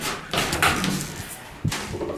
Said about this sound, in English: Alright, go ahead and open the door, let them on.